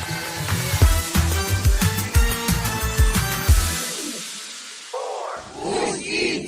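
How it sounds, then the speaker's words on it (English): A large crowd of mourners gathering in Moscow for the funeral of Russian opposition leader Alexei Navalny, a dense rumble of many voices with rhythmic bursts of chanting, then a quieter stretch of scattered voices. "That's the sound of mourners gathering in Moscow on Friday for the funeral of Russian opposition leader Alexei Navalny, who died in prison last month."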